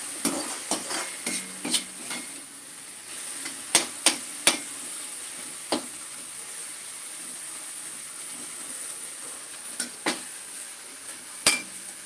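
Vegetables for drumstick sambar sautéing in a pan, a soft steady sizzle broken by a series of sharp clinks and scrapes from the spoon stirring, close up with no talking.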